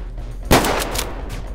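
A single aimed gunshot in the strategy game UFO Alien Invasion, set at a crashed UFO site in the Middle East: a loud, close crack with a short ringing decay, no talking.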